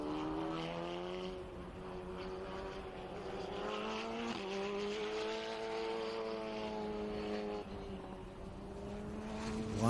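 Formula Regional Americas race cars run flat out through sweeping turn 11 onto the banking at Indianapolis, a continuous layered engine drone with shifting pitch as several cars pass, no talk.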